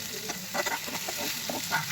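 Pieces of chicken chap sizzle in a pan while being stirred, with close, scraping stirring strokes over a constant frying hiss.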